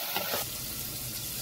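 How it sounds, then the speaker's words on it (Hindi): Finely chopped large green chillies frying in a pan of paste, a steady close sizzle with a brief stirring scrape at the start, no talk. "अब हम इसमें डालेंगे 6 बड़ी वाली हरी मिर्च, जिसे हमने बारीक बारीक चॉप कर लिया है।"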